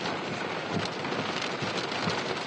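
Heavy rainstorm with a steady, dense hiss of rain falling, loud and unbroken throughout, no voices.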